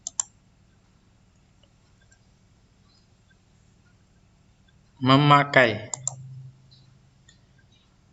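A computer mouse button gives a couple of sharp, quick clicks, isolated against near silence, with a voice speaking in between.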